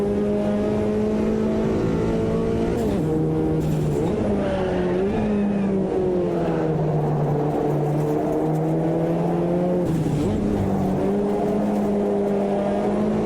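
A Ginetta race car in Automobilista 2 roars steadily and loudly throughout, its engine pitch rising and falling through gear changes, with brief tire squeal.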